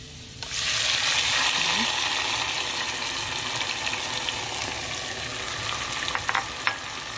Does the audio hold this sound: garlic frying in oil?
yes